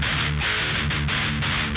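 A heavily distorted electric guitar plays a tight metal riff through a Rivera Rockcrusher Recording with a scooped-mid EQ, chugging in loud, steady repeated bursts with brief gaps and no talking.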